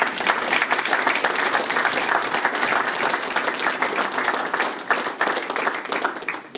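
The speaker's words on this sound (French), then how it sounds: "On peut les applaudir aussi." An audience at a fire brigade Sainte Barbe ceremony in Pamiers applauds, a dense, sustained clapping that fills the hall steadily for several seconds before thinning slightly at the end.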